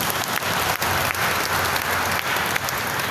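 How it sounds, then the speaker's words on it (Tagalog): An audience at an El Shaddai Friday evening prayer gathering claps steadily, the thick, dense applause rolling on evenly like rain, moderately loud and free of speech. "Tingnan niyo po yung palakpak niyo"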